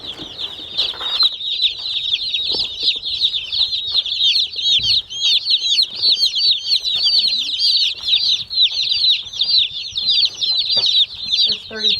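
Dense, continuous high-pitched peeping from many baby turkey poults packed in a mailed hatchery shipping box, a loud unbroken chorus of overlapping chirps lasting throughout with faint handling noises beneath.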